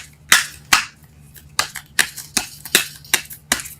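Tarot cards being shuffled in a reading, a series of sharp riffling snaps repeating in an irregular rhythm, close and clear with no talk.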